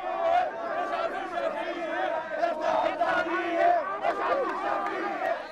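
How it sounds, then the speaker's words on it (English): A large crowd of protesters shouts and roars continuously as they push against a cordon toward the parliament buildings, many voices overlapping in a dense, agitated din. "The crowd tries to break through the cordon to harangue Prime Minister Shafiq at the parliament buildings"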